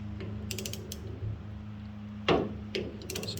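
A steering wheel puller is cranked slowly on the seized steering wheel of a Willys CJ2A, giving faint ratcheting clicks and creaks over a low steady hum, with one sharper crack near the end.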